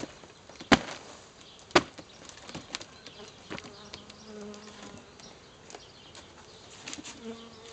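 A swarm of light Italian honey bees being hived, a steady close buzzing with scattered sharp knocks and thumps as they are shaken out in front of the hive; no one talks.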